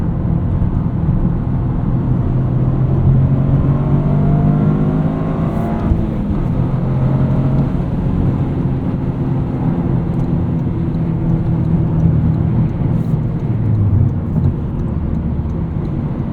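A 2023 Toyota GR Corolla engine pulls hard through the gears from inside the car, a loud, steady droning growl with rising pitch sweeps as it shifts, heard alone without talk.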